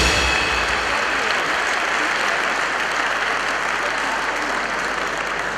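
Warm applause from a concert audience honoring a master musician, a dense, steady clatter of many hands clapping continuously throughout, loud and even with no voices standing out.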